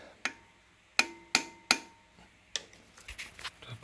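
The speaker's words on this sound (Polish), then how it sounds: "Taki mały młoteczek." Sharp metallic taps from a small hammer on an engine connecting rod under repair, a few isolated strikes with short ringing tones, then quicker lighter taps toward the end, fairly close.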